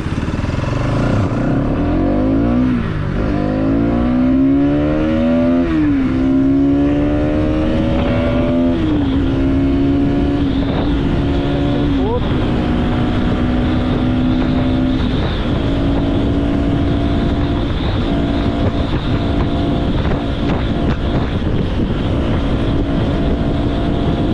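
A 2024 Bajaj Pulsar NS200 motorcycle pulls away from first gear and climbs through the gears, its loud, close engine note rising in pitch, dropping at each shift and rising again over a long continuous run.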